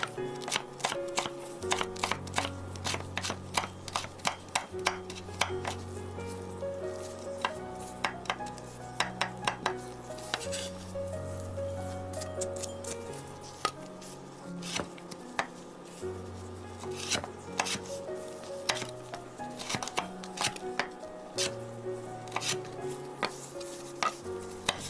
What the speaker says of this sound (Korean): 먼저 양념장에 넣을 청양고추와 홍고추를 잘게 썰어 주세요